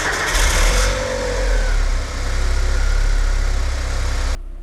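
A 1995 Porsche 968 Sport engine, just fitted with new alternator mounts, starts up and settles into a loud, steady, close idle with a brief rise in revs.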